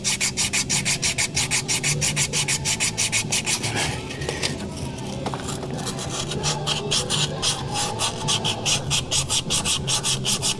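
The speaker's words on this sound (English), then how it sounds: "I'm gonna get some on this piece of emery cloth. I'm just gonna kinda clean this up some." Fast rhythmic scrubbing of emery cloth rubbing rust off a Mazda Miata engine part, close and loud back-and-forth strokes with a short pause near the middle before resuming.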